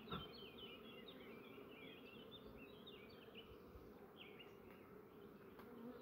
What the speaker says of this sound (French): On va faire descendre les abeilles.